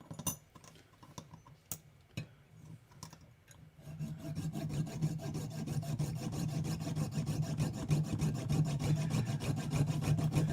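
A metal post in a garage is cut off with a power tool: a few sharp taps and scrapes first, then a continuous buzzing, rasping cutting noise that runs steadily and close for the rest.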